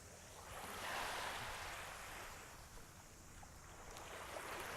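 Gentle waves lapping at Mission Bay beach in Auckland, a steady wash of surf with light wind noise, no voices.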